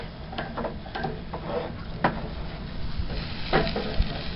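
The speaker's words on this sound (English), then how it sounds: "So here's the steaks. I'm just sort of searing in the juices before I put it on the turbo" Steaks sear on a hot grill, a moderate sizzle broken by several sharp clicks and scrapes from handling the meat, fairly close, with no one speaking.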